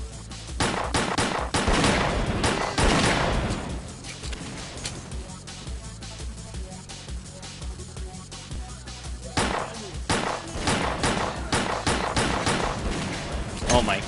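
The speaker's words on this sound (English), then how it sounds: "try and shoot a shotgun at me at this range" Shotgun and pistol fire during a S.T.A.L.K.E.R.: Clear Sky firefight: dense, rapid cracks and blasts in quick succession, with heavier booms clustered at the start and again near the end, under a talking voice.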